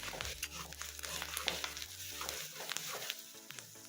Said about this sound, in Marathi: वाटण आपल्याला एकदम मस्त परतून घ्यायचं आहे